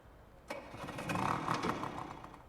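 A noisy vehicle engine in the game The Flower Collectors starts up and revs, its tone rising and holding for about two seconds before easing slightly, loud and close with no talk over it.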